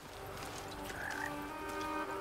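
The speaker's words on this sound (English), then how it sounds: "And a frog" A frog croaks in the video game Blacktail, a short rising call sounding over a steady wash of ambient game background noise.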